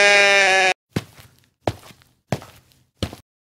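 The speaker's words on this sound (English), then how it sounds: "We got the sheep." A sheep gives a loud, close bleat at the start, followed by four evenly spaced dull thuds like footsteps or knocks.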